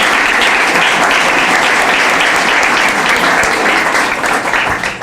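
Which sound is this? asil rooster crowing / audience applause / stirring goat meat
audience applause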